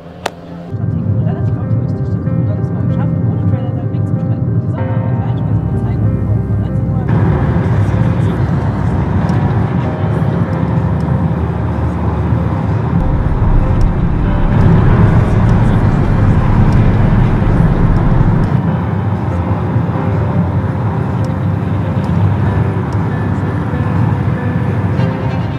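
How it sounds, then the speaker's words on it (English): A solar race car on a desert stage of a Moroccan solar challenge drives along with a steady, loud running drone of motor, tyres and wind that holds throughout. "The car is running."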